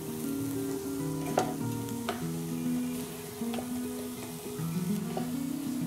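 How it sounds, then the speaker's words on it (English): Roughly chopped grilled, peeled tomatoes sizzle in a hot pan, a continuous close frying hiss with a few sharp clinks and scrapes as they are stirred, plus a steady hum beneath. "So now these grilled tomatoes go in."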